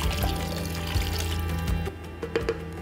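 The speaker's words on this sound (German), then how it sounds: "das wird jetzt alles abgelöscht mit Wasser" Water is poured into a pot of frying potatoes for a Pakistani meatball-potato stew (alu kofta), giving a steady rushing splash for about two seconds before it settles into bubbling and a few clinks.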